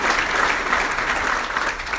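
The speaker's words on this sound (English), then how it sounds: "let's give them a round of applause." Audience applause at a city State of the City address in Bridgeport, a steady dense wash of many hands clapping throughout with no talk on top.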